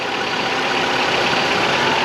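A Ford Escape with a check engine light on idles close by, a loud, steady, broadband engine drone with a dense hum and no change in pitch, alone without talk.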